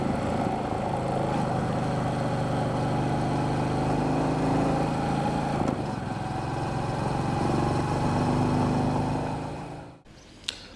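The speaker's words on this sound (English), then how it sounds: "listen to that lovely engine tone" A Royal Enfield 350 motorcycle engine hums steadily while riding twisty mountain roads on Rhodes, a continuous throbbing tone held for about nine seconds before dropping away abruptly, with no talking.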